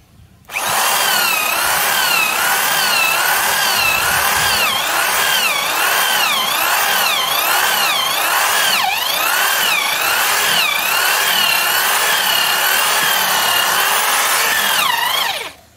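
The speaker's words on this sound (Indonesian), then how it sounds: "saya menggunakan mata bor kayu ukuran 12 mm dari Bosch. Untuk media pengeboran adalah kayu mahoni ya" Corded electric drill at top speed boring through mahogany with a 12 mm Bosch wood bit, a loud continuous high whine that wavers as the bit bites and loads, running steadily about fifteen seconds before spinning down.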